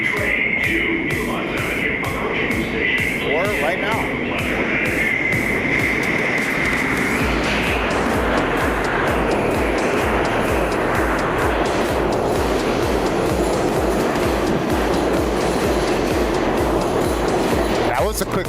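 A New York subway 3 train pulls into Atlantic Avenue station, a loud, continuous rumble and screech of wheels on rails building and rolling on alone, with a high squeal early on.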